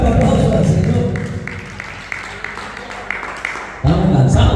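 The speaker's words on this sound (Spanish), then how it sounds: "Denle un fuerte aplauso al Señor." A church congregation claps steadily, a dense wash of applause that thins in the middle and swells again at the end, with no one speaking over it.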